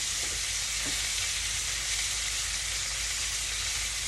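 Hamburger patties topped with cheese sizzle steadily on a grill, a dense, even frying hiss that holds at one level from start to end with no voices over it.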